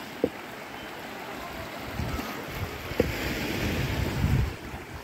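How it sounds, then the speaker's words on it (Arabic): Calm sea waves rolling onto a beach at Marsa Matruh, Egypt: a soft, continuous wash that swells toward the end, with wind buffeting the microphone and a couple of brief knocks. "شايفين يا سلام موج هادي جدا، هادي ظريف يعني"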